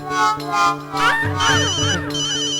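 An electronic ringtone melody chirps repeatedly in short bursts, a phone ringing nearby while a voice briefly talks over it.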